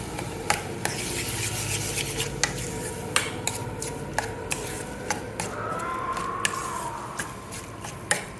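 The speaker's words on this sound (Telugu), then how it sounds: "ఇప్పుడు అది తీసుకొచ్చే చక్కగా తాలింపు పెట్టేస్తున్నాను" Steady sizzle of tempering spices crackling in hot oil for a raw mango chutney, with regular sharp taps of a spoon against the pan throughout.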